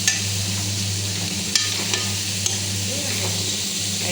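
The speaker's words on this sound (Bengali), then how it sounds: "এখন তোমরা এটা ঢেলে দিবে, ঢেলে দিয়ে এটাকে" Masala being stirred in a frying pan over steady sizzling, with a few sharp spatula knocks against the pan standing out from the constant frying hiss, close by.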